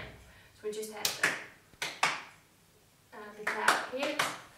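Sharp hand claps mark a rhythm exercise, sounding in a few tight bursts with pauses between them, close and crisp, with quick sounds like hits or stamps worked into the pattern.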